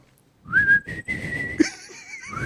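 A person whistles a tune, a bright sustained melody that swoops and holds, up close alongside low chatter and brief laughter.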